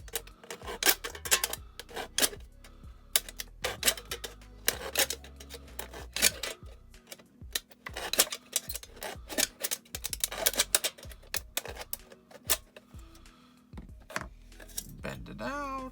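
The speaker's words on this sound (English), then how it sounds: "Bend it out. Give it a little snip." Scissors snip through thin aluminum sheet while a wind spinner is being made, giving a rapid run of sharp metallic cuts and crinkles, close and fairly loud, continuing steadily without talk.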